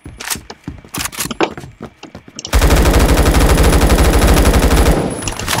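Gunfire erupts in the online first-person shooter Phantom Forces: a few loud separate shots, then a long, rapid, sustained burst of automatic fire close up, with no talk.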